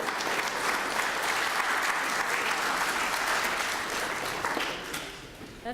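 An indoor audience at a senior Medicare information session applauds the speaker Angela, a dense, steady burst of clapping for about five seconds that fades out at the end.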